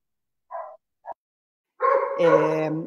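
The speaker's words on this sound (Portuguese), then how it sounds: "Ó, meu cachorro, né, Cassiane? Então, ao fundo deve estar bem enlouquecido lá na rua" A dog barks out in the street, two short yips followed by a louder, sustained bark or howl, heard from a distance in the background.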